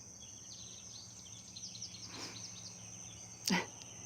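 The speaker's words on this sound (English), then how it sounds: "Hear the birds getting louder." Faint bird chirps twitter in the distance over a quiet background, with a sharp, brief noise near the end.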